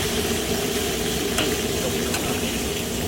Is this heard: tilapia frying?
yes